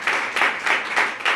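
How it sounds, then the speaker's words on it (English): A crowd at a Pride celebration claps in brief swelling bursts, four or five rhythmic waves of applause that sound moderately close and fairly loud. "Give them another round of applause."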